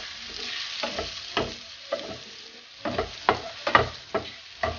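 Mushrooms frying in a pan, a quiet crackling sizzle with intermittent stirring scrapes and small pops, close and fairly faint.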